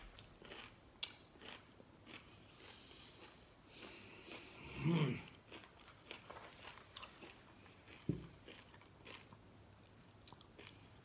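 Kind apple cinnamon cereal crunched with milk, heard as scattered chewing and biting crunches that are close and mostly quiet, with a louder burst near the middle and another sharp one later.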